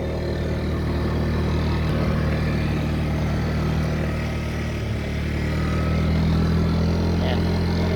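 A motorcycle rides along a residential road with a steady low engine drone and road rumble throughout, loud and close. Voices talk over it at times.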